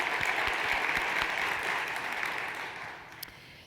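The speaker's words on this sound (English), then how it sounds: "I think that's worthy of applause." A conference audience at an MS Society leadership general session breaks into sustained applause, a dense even roar of clapping that fades out toward the end.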